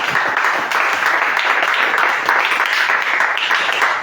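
A church congregation applauding during an evening teaching service, dense sustained clapping from many hands filling the room steadily throughout.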